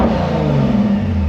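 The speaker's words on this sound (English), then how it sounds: "Sat in the car with no back box on it, so you can have a little listen to what it sounds like." Lexus IS200 engine idling and revving with the rear exhaust box removed, heard from inside the car as a steady, loud, droning rumble without talk.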